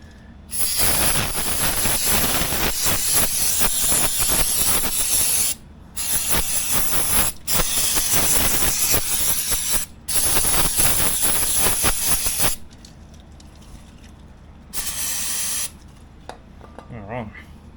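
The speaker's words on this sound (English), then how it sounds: "I'll just spray some brake cleaner in there." An aerosol can of brake cleaner hisses loudly in long sustained bursts of spray onto a scooter brake, broken by brief pauses, ending with a couple of shorter, quieter sprays.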